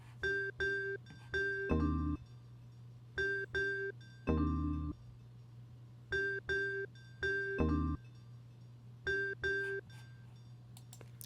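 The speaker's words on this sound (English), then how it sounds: "let me go ahead and play the little bell part down here." Small bell melody from a beat sample, bright repeated chimes in short rhythmic phrases of two to four strikes, over a steady low hum, with brief pauses between groups.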